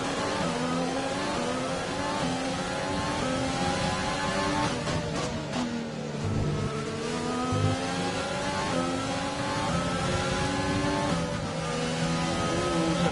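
A Formula 1 car engine in the racing game F1 2020, a Jaguar team car at the Canada race, holds a steady, loud, high-pitched whine throughout, shifting pitch slightly as it revs, with no voices.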